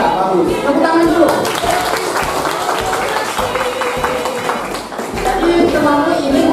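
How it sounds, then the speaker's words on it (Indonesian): In a classroom, students clap for a classmate in a loud, close, scattered round of applause that carries on steadily under voices. "Tepuk tangan dulu."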